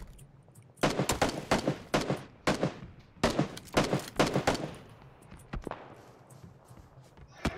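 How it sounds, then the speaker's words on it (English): Gunfire in the battle-royale game PUBG: several clusters of sharp, rapid shots ring out at a moderate distance, with short pauses between bursts and then fading, scattered pops. "Oh, they're shooting at us!"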